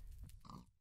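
A pig in Minecraft lets out a short, quiet pair of low grunts, heard alone.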